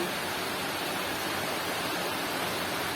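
Steady, even hiss of monsoon rain falling outside a village home in Bangladesh, continuous and enveloping with no breaks.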